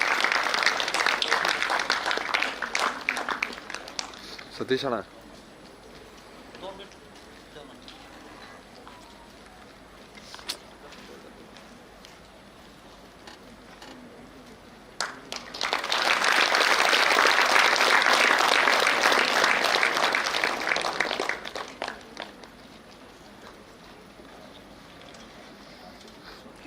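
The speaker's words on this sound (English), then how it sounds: "A huge round of applause for this achievement." Audience applause for graduates at GM University's first convocation ceremony: a loud burst of clapping, a quieter stretch with a voice speaking, then a second, fuller wave of sustained applause that fades out.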